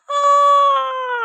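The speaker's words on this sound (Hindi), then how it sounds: "वो चीख पड़ा।" A man's drawn-out scream of horror, a single sustained high wailing cry that starts abruptly and holds strong for over a second, slowly sagging in pitch, with no other sound around it.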